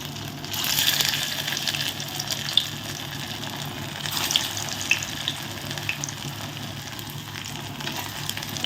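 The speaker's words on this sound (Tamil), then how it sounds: "கடாயில் வந்து எண்ணெய் ஊற்றி எண்ணெய் காஞ்சிருச்சு நம்ம தட்டி வச்சுக்கிறத வந்து போடுவோம்" Puffed rice cutlets fry in hot oil in a kadai, giving a steady, close sizzle and crackle that runs throughout with small spits and pops.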